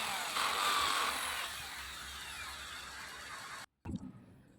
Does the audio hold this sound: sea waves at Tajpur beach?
no